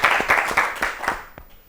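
A short burst of audience clapping in a children's television studio quiz show, about half a dozen sharp, fairly close claps in a quick uneven rhythm that fade out within two seconds.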